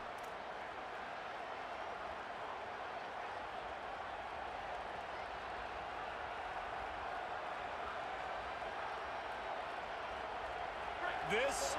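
A College Football 27 stadium crowd roars as a steady, distant wash of cheering throughout, with a game commentator talking over it.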